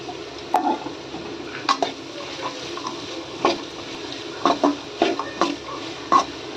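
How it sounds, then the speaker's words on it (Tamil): Three finely chopped large onions sautéing in oil, with intermittent spoon scrapes and clinks against the pan over a low background sizzle, close by and without speech. "வெங்காயம் நல்லா வதங்கணும்"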